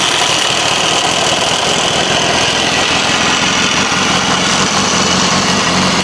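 BMW S1000RR sport motorcycle engine running at idle close by, a loud, steady, dense mechanical roar with no pauses throughout.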